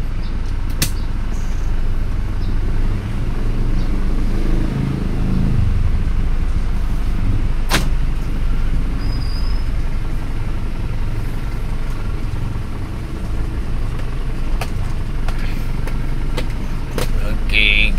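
An Isuzu Panther Turbo with a 4JA1 diesel engine is on a test drive after an engine rebuild. A steady low engine and road rumble runs through the whole clip, with the air conditioning on and a few faint clicks.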